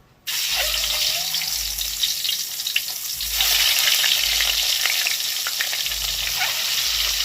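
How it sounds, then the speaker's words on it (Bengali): Eggs fry in hot oil with a loud, steady sizzle that swells when more go into the pan, without talk. "তেলটা গরম হয়ে গেছে হয়ে গেছে গরম হ্যাঁ, হ্যাঁ গরম হয়ে গেছে এবার দিয়ে দিচ্ছি একে একে ডিমগুলোকে"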